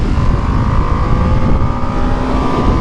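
A Ducati Panigale V2S motorcycle engine runs close by, a loud, steady mechanical growl with a faint whine layered on top and slight pulsing throughout, no talking.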